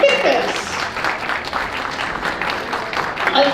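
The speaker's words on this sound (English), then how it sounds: "could all of these contributors please stand up for a round of applause" Dense, lively applause for book contributors at a launch party, close and steady, with cheering and chatter mixed into the clapping.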